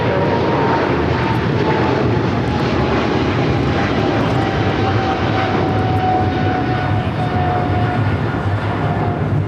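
A passenger airliner takes off at LAX, its jet engines roaring loud and steady throughout with a rising whine, continuous broadband thunder filling the whole stretch.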